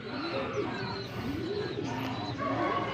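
Pigeons cooing steadily nearby, repeated throaty rising-and-falling coos that overlap continuously with faint chirps in the background, no talk.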